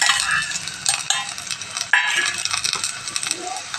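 Rice being stirred and mixed in a miniature cooking pot, giving a steady scraping, rustling texture with small clinks and taps throughout and no talk.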